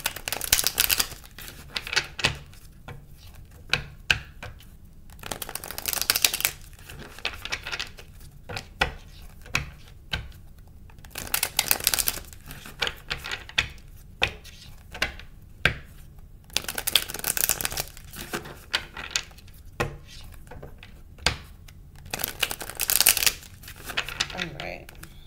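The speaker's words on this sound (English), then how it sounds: "I'm gonna shuffle a couple more times." Tarot cards are shuffled repeatedly in bursts of rapid riffling and slapping, close and fairly loud, with quieter gaps between and a voice talking intermittently over them.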